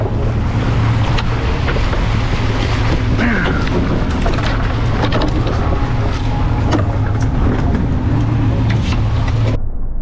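Loud, steady boat engine rumble with constant wind and water noise while trolling for wahoo, running continuously before cutting off abruptly at the end.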